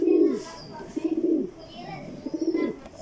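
Racing pigeons, a young breeding pair, coo in repeated low throaty phrases, close and clear, with faint talk in the background.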